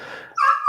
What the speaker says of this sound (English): Oh my God, this dog.